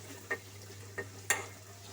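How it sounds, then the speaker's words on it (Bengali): Onion and green chillies fry in a pan with cinnamon, cardamom and bay leaf, a quiet, steady sizzle under a low hum, broken by three sharp scraping stirs. "মরিচ, পেঁয়াজটা ভেজে নিব"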